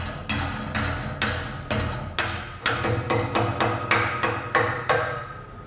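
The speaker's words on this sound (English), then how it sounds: "So we're just going to use a hammer to do so." Sharp metallic hammer blows strike steel electrical bracket slots clamped in a vise, bending them to a right angle for a Blue Ox base plate install on a 2018 Jeep Grand Cherokee; about fourteen ringing hits in a steady, close rhythm, loud and alone.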